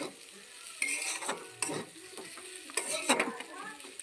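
Khesari dal chorchori being stirred in hot oil: a soft background sizzle broken by several scraping, clinking spoon strokes against the pan, close and moderately loud, with no voices.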